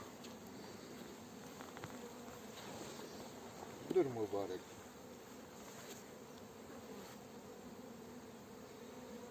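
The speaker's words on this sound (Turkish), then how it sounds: "insan üflüyor ya konuşurken arı rahatsız oluyor insan nefesinden" Honeybees hum around an open hive during a colony-splitting inspection, a steady low drone with a brief louder swell of buzzing near the middle, and a person speaks briefly.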